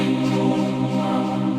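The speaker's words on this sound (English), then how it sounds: "I could do that in a more staccato kind of almost percussive manner like this" Short, clipped synth choir notes pulse in a quick, percussive pattern, each chord cut off sharply, loud and close.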